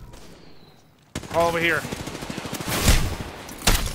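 Rapid bursts of automatic gunfire in the Apex Legends battle royale, loud and close in dense volleys, with a short voice exclaiming over it.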